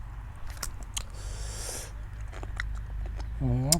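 Close, crunchy chewing of green mango with wet bites and snorting breaths, followed by a brief vocal sound at the end.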